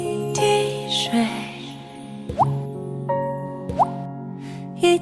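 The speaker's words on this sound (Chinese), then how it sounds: "一滴一滴一滴一滴的水" Water drops plop one after another, several crisp, close drips at irregular intervals over a soft sustained musical background.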